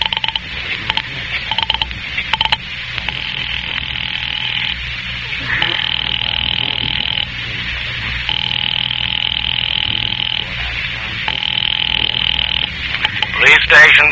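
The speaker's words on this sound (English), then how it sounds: "Ringing the police department." Telephone ringing on the line to a police department in a vintage radio drama, a steady electronic ring tone repeating through the clip at moderate level, with faint background hum.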